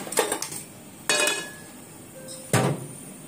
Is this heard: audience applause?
no